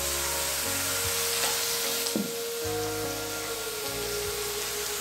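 Ground turmeric frying in a pan while butter chicken is cooked, giving a steady close sizzle with faint stirring scrapes throughout and no talk.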